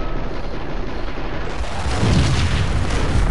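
A grenade goes off in the video game Max Payne: a heavy, rumbling blast that sustains noisily and swells into a louder boom partway through, with no talking over it.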